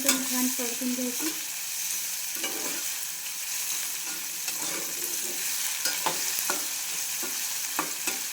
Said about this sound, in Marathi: गोल्डन प्रकारे सुगंधित वास येईपर्यंत छान परतून घ्यायचं